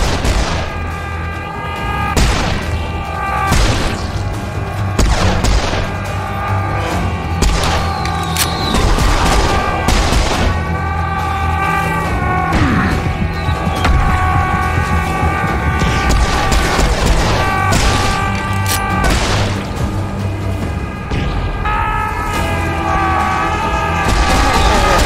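Heavy gunfire in the shooter Serious Sam 4 on PC, loud repeated shots and booms over a constant droning game soundtrack for the whole stretch.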